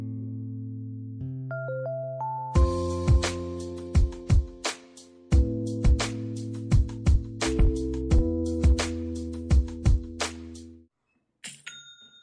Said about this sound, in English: That is the sound of another sale or another dollar hitting your Shopify e-commerce